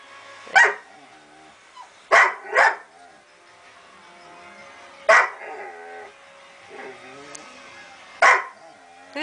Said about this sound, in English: Who's making all that noise, Molly?